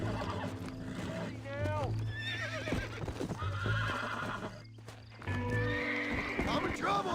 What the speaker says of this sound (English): It's like the strongest horse I've tried to break yet.